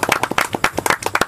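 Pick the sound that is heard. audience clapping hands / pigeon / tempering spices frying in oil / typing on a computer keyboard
audience clapping hands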